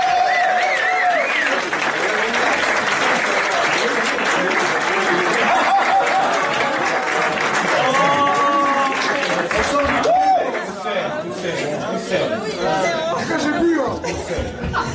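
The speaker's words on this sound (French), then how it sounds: "donc applaudissements s'il vous plaît" Applause at a prize ceremony during a woodcutting competition in Cléguérec, Brittany, clapping mixed with crowd chatter and some laughter, with voices talking over it. The clapping thins out toward the end.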